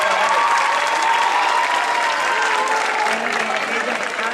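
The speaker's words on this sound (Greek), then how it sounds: "Και ένα θερμό χειροκρότημα για τον Μιχείο." An audience at a school celebration applauds warmly, a dense, sustained clapping that carries steadily throughout, with a few voices faintly mixed in.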